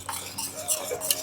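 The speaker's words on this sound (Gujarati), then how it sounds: "દાળને સહેજ ફેંટી લઈએ" Quick scraping and tapping of a utensil against a pot as thick cooked lentils are whisked, a short burst of soft clinks and stirring.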